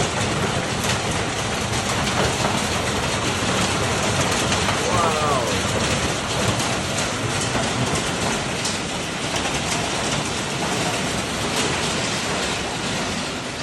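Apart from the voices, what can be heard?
thunderstorm with rain and hail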